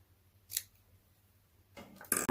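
A pair of scissors snips through a scrap of ribbon, one short crisp cut followed by a quick double snip near the end, in an otherwise quiet room.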